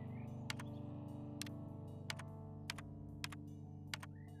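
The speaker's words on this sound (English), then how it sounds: "typing this." Keys tapped on a virtual keyboard inside the video game Rec Room, a handful of sharp, evenly spaced clicks over a steady low background hum, with no talking.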